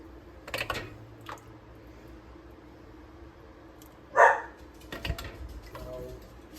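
A dog gives a single sharp bark in the background from another room. Light clicks and tapping continue around it.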